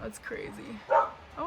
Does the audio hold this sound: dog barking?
yes